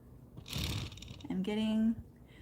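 An industrial sewing machine whirs and clunks through a short self-calibration cycle, with mechanical rattling followed by a rising motorized hum, close and fairly loud, with a voice talking briefly over it.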